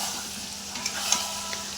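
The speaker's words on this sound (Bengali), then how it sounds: "টমেটোটা ভাজি।" Tomato sizzles in a pan with onion, green chili and capsicum for chili chicken: a short, quiet, steady hiss of frying with a few faint pops.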